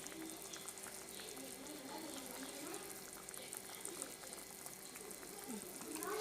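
Sundakkai kulambu, a tamarind curry, bubbling in a pot, a faint continuous simmer with soft popping bubbles throughout.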